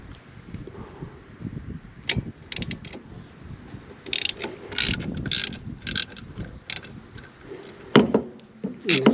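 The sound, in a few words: ratchet loosening power steering bracket bolts on Jeep CJ5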